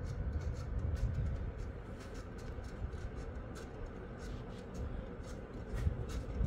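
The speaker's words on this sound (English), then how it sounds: "I guess that sound is indicative of bearing issues," An early Emerson 52-inch hardwood ceiling fan with worn bearings keeps running with a rough, rumbling drone, scattered faint clicks and ticks over a continuous airy whir, fairly close.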